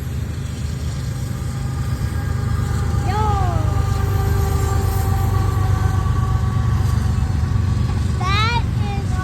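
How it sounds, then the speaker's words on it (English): Loud rumbling of a turbo DPU diesel train locomotive at an S curve in Neenah, Wisconsin, a constant heavy low drone with brief higher squeals, a voice calling out once. "But this engine is loud."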